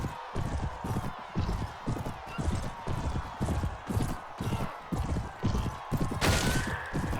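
Horses gallop in the video game Mount & Blade Warband, a rapid rhythmic drumming of hooves repeating throughout, with a sharp crash-like burst near the end.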